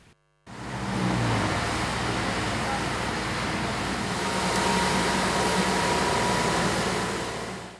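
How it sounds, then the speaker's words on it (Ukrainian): A new municipal street cleaning machine, tractor-based, working on city streets, giving a steady, close mechanical drone with fan-like whirring and a low engine rumble that holds evenly throughout after a brief quiet start. "Це нова прибиральна машина."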